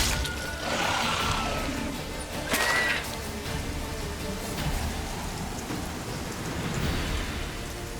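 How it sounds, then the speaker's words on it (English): Rain and thunder in The Witcher 3, a steady hiss of rainfall with rumbling thunder and a sharp crash partway through, continuous with no talk. "Looks like rain."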